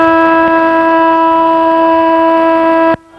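A loud, sustained half-time siren at an amateur Australian football grand final sounds as one steady tonal blast for about three seconds, then cuts off abruptly into crowd ambience.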